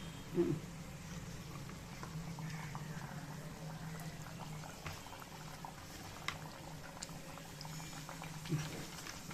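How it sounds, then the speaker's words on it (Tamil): Thattai rice crackers fry in hot oil with a soft, steady bubbling sizzle that continues throughout. The sound stays fairly faint and close, with a few light taps along the way. "இப்போ எண்ணெய் காஞ்சிடுத்து. இப்போ தட்டினதை போடுறேன்."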